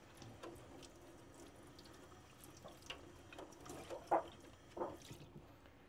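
Water runs from a tap as a PPE face shield of the IDC Snap System is rinsed, a soft steady trickle with a few splashy knocks and clatters near the end, fairly quiet.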